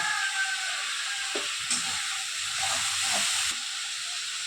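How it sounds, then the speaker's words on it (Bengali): Spice masala for a Bengali fish and fig curry fries in a pan with a steady, bright sizzle and hiss, broken by soft scraping as it is stirred. "এবার ভালো করে নেড়ে কষিয়ে নেব"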